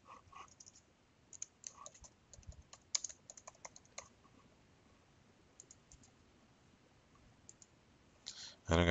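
A file name being typed on a computer keyboard, quiet close key clicks in bursts with pauses, ending in a brief louder rustle.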